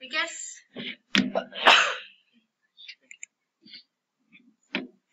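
A single sharp sneeze bursts out near the start, preceded by a short spoken phrase, followed by a few faint clicks and soft scattered noises in an otherwise quiet room.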